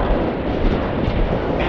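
Strong gusts of wind buffeting the microphone on a Philippine lagoon shore at low tide, a steady, loud, broadband roar lasting throughout with no other clear sounds.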